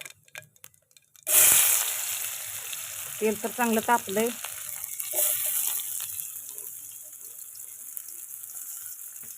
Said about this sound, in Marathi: आता त्या कढईमध्ये मी तेल टाकून घेतलं त्याच्यात टाकूया आपण मोहरी थोडीशी जिरी टाकून घेऊया